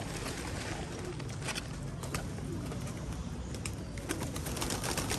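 Pigeons coo in a rooftop loft among a kept flock, soft repeated throaty calls overlapping near and far, with occasional wing flaps and a constant noisy background.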